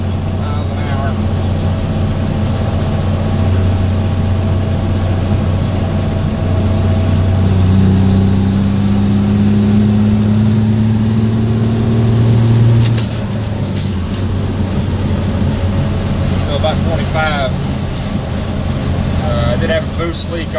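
Engine of an M923A1 military truck with an NTC 400 diesel and HT3B turbo accelerating, a steady loud low drone with a rising turbo whine and gear-change shifts in pitch, heard from inside the cab with someone talking over it.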